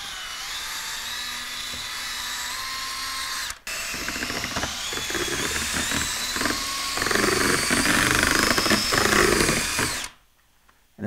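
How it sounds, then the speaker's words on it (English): A power drill fitted with an egg beater whirs steadily while mixing powdered wall compound during mobile home wall repair, one continuous whine with a brief cut partway through before running on and stopping near the end. "I like to mix it with this egg beater in a drill."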